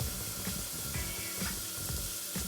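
Garlic and ginger sizzle steadily in hot oil in a pan, a close, continuous frying crackle broken by soft stirring scrapes, with no talking.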